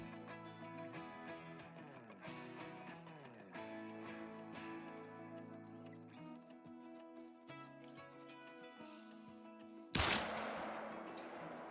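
A single loud, sharp 10mm Glock pistol shot in the hunting game Call of the Wild rings out near the end, cutting through steady background music.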